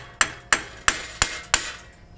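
Five sharp metallic hammer taps on a Honda Pilot wheel hub, spaced about a third of a second apart, close and clear with no talking.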